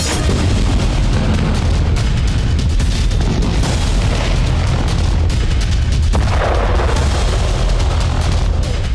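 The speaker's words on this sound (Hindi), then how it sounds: "जहां आईडीएफ ने मुश्तहा टावर पर एयर स्ट्राइक कर उसे तबाह कर दिया" Heavy blasts and rumbling booms from an airstrike destroying a large commercial tower in Gaza City, loud and continuous with deep low-end roar and scattered sharp bursts throughout.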